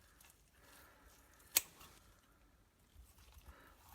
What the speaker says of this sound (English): we're going to cut right through the top of the heart here